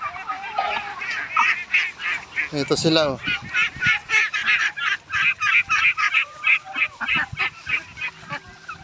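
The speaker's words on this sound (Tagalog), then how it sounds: "Pato at itik. Ganito pala ito, kaya ingay mga ito." A flock of ducks honks and quacks in rapid, repeated bursts, close and noisy, with a voice speaking briefly among them.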